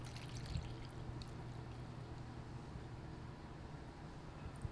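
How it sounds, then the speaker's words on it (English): Cointreau orange liqueur pouring from a bottle into a punch bowl, a steady continuous trickle with a low liquid hum that runs evenly throughout at moderate, close level, with no talking. "we're gonna add about a half of a normal sized bottle of Cointreau"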